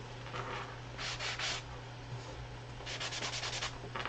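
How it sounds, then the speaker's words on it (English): Soft rhythmic scratching of a sanding block rubbed back and forth in short strokes, close and fairly quiet over a steady low hum. "just a little something something with my sanding block"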